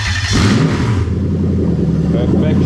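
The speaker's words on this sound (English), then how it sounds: "first thing we're going to do, start the engine up." Lexus 3UZ-FE V8 engine, fitted in an IS200, cranks and fires close up with a loud burst, then settles into a steady, deep idle rumble.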